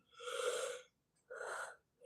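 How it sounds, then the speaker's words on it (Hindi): Two long breathy yawns from a woman singing Avadhi folk songs, the first drawn out for nearly a second, then a pause and a second shorter yawn, close and clear with no other sound. "देखिए कितना जम्हाई आ रही है।"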